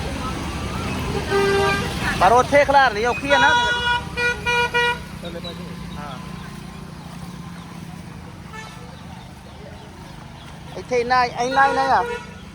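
A car moving through waterlogged streets in Nakodar, with a low engine rumble and several loud bursts of horn honking from nearby traffic while people talk inside the vehicle.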